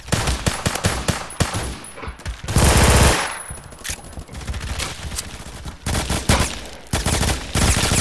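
An MP5 submachine gun fires in a video game, loud rapid bursts of automatic shots with short gaps, dense and close.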